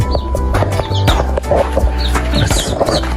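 Chickens and fowl cluck in an outdoor yard in the hills of Smithville, Mocho Mountains, a busy run of close, repeated clucks and short calls with no one speaking.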